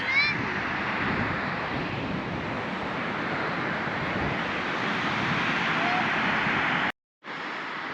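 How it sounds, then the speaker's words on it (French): Steady broadband rush of sea surf at Cap Sainte Marie, Madagascar, fills the whole stretch, constant and fairly loud, with a brief dropout near the end; a faint meow-like squeak appears early. "c'est le bruit de la mer derrière en plus"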